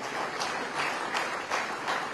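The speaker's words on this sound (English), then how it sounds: "Just have a huge round of applause for all the UG and PG sitting here." A university convocation audience applauds its undergraduate and postgraduate graduates. The clapping is a continuous, moderately loud wash that swells gently in waves, with no speech over it.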